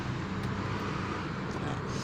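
A started car engine idling steadily during a driving lesson, with an even, continuous mid-level rumble and no breaks or revving.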